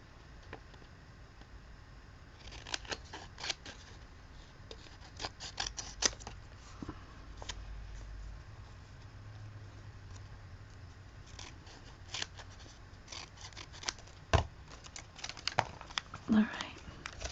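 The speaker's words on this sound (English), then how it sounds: "Let me fold this in half so I can cut two at a time." Scissors snip through folded paper in a series of quick, crisp close-up cuts, irregular and fairly quiet, with paper rustling between snips.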